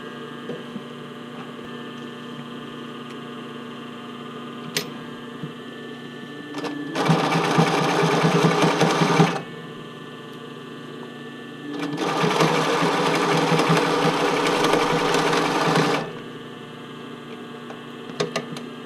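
A sewing machine runs while stitching the fitting band of a bra. Two loud, close bursts of rapid whirring are separated by a quiet pause, with small handling clicks in between.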